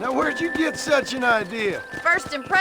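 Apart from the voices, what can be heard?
No distinct noise like a dog, phone or traffic.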